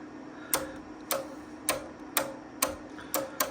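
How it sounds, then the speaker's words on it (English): Sharp mechanical relay clicks from an Ameritron ALS1300 linear amplifier's filter board repeat roughly every half second, six or seven in a row, crisp and close over a steady low hum. "I can hear the filter board cranking along there."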